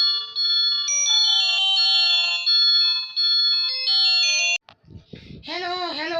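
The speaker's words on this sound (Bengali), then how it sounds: "এমন সময় তার মোবাইল ফোন বেজে ওঠে" A mobile phone ringtone plays a bright, repeating electronic melody for several seconds, then cuts off and a voice begins speaking.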